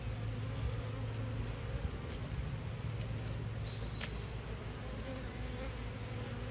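Agitated honeybees buzz around a garden hive, a dense, continuous droning hum at moderate level with a few individual bees whizzing close by, without speech.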